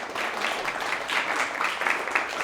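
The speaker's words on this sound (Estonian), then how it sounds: "Teeme aplausi" Seminar audience applauding after a talk on circular economy and waste reduction, a roomful of steady clapping at moderate distance that holds evenly for a couple of seconds.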